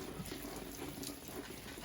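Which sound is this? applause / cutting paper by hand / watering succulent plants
watering succulent plants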